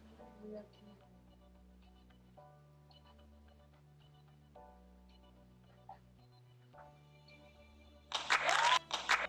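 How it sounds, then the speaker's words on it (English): An applause sound effect triggered from a button during a virtual pub quiz bursts in loudly near the end, a short crowd-clapping sample after a stretch of quiet background. "I keep pressing the applause button because I can't finish it."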